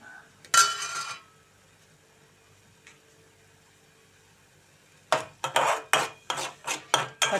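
A ladle stirs broad beans frying in a pan, with one short scrape, then a quiet stretch, then a run of rhythmic metallic scrapes and clinks close by.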